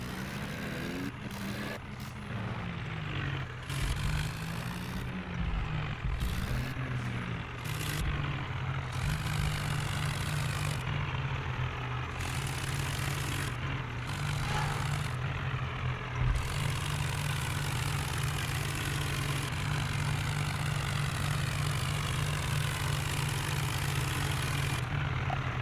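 A tractor engine runs steadily while stuck in mud with a loaded trolley, a continuous low droning rumble holding level for the whole stretch, with occasional shifts in pitch early on.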